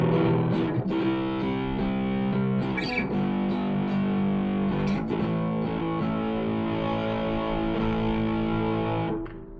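Electric guitar with its tone controls rolled down plays sustained, distorted chords through an effects unit, dense and continuous for about nine seconds before fading out, with no voices.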